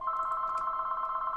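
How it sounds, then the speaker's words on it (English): A telephone rings with a steady, continuous electronic tone held throughout, moderately quiet and with no voices over it. "that's the phone"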